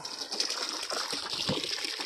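Water splashes and gushes steadily onto garden plants for a couple of seconds, a continuous close pouring hiss with no voices.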